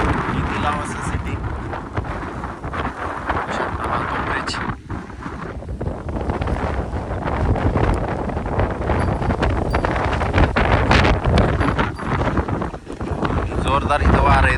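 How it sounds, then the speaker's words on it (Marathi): Strong gusts at Lavasa City buffet the microphone, a loud continuous roar and rumble that rises and falls across the whole stretch, with a voice speaking over it. "जोरदार इथं वारा येत आहे"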